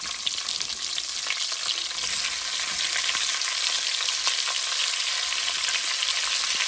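Onions frying in rendered bacon fat in a pot for a fish stew, a loud steady broadband sizzle that holds evenly throughout with faint scraping, no talk.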